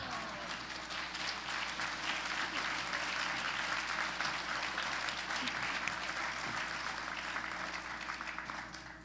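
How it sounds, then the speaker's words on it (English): A council meeting crowd gives a standing ovation, with dense, sustained applause filling the room at an even loudness for several seconds before easing slightly at the end. "I was really, really hoping for a standing ovation"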